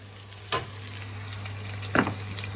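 Food sizzles steadily in a pan while a father cooks in a home kitchen in Malaysia. It is a constant low frying hiss with two sharp clatters of utensil on pan, and no one speaks.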